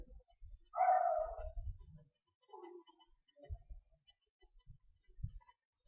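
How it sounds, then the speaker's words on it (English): A dog at home gives a couple of short nasal whimpering or grumbling vocalizations early on, followed by soft quiet rustles and thumps, fairly close and otherwise faint. "Here's my dog."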